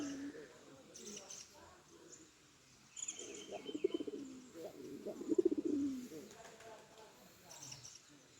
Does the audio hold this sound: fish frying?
no